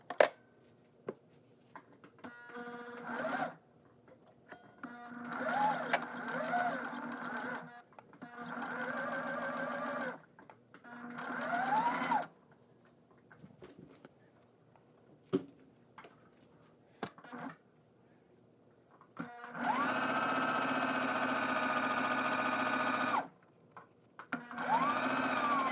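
A sewing machine stitches a French seam through fabric in several sustained runs of steady whirring, close and clear, with pauses between bursts and a long final run near the end.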